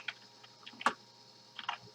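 Fingers tap out a command on a computer keyboard, a few scattered keystrokes followed by a quick burst of clicks near the end, close and fairly quiet, with no voices.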